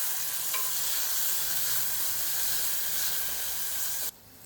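Ground garlic and green chili paste with cumin sizzles and fries in hot oil while being sautéed for dal palak, a loud continuous hiss close up that drops abruptly near the end.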